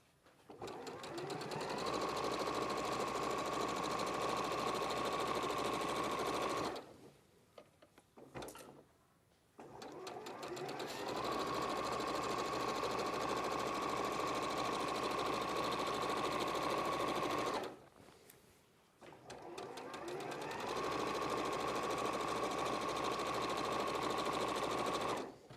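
A sewing machine stitches fabric in long steady runs, its fast mechanical whir continuous and close, stopping briefly twice before starting again.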